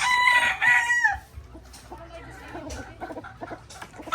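Chickens and roosters, kept for breeding, call close by, with a loud rooster crow at the start followed by scattered clucks and squawks while a person talks quietly in the background.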